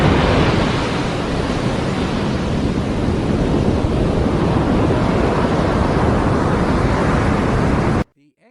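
Steady, loud surf crashes on an isolated black sand beach where a creek meets the sea on a remote tropical island in Vanuatu, with wind noise throughout, ending abruptly.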